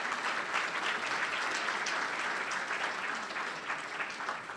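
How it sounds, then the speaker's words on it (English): An audience at a village State of the Village event applauds staff, a dense, steady clapping that fills the room and then tapers slightly toward the end, with no voices over it. "Please give them a round of applause."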